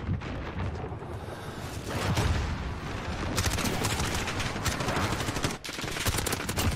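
Continuous rattling automatic gunfire with bursts and heavy low booms fills a Call of Duty Modern Warfare firefight, dense and loud throughout with no voices.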